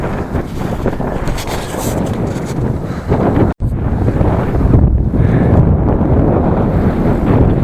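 Strong wind buffets the microphone in a loud, continuous roar, with a brief cutout midway before the gusting resumes, in Qinghai, China.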